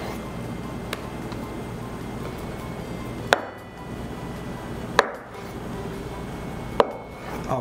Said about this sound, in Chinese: 豆腐切块状，好，先一分为三